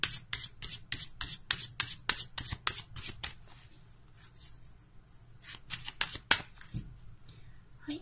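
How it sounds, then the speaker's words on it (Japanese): Fortune-telling cards are shuffled in a quick, rhythmic run of crisp riffles up close, pausing briefly before another burst of shuffling and cards being laid down, with no talking. "はい、こちらのカードもね、これもね、2枚出していくので少しお待ちください。"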